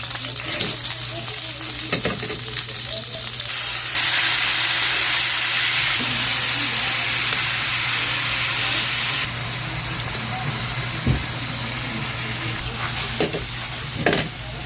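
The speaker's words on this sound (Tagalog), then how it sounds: "Init na yung wok natin. Fry natin yung onion." Onion frying in a hot wok for Filipino pork liver steak: a loud, bright, continuous sizzle and hiss that swells for several seconds, with occasional stirring knocks and faint background voices.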